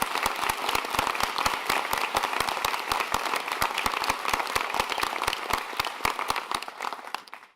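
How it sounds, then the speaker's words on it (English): Sustained applause from an audience at a college inauguration ceremony in Vermont, dense steady clapping throughout that fades out at the very end. "So please, a round of applause for the extended family."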